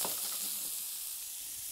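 Zucchini sizzles and fries in hot oil in a pan while ratatouille is being cooked, a steady crackling hiss throughout that is strongest at the start and settles slightly after.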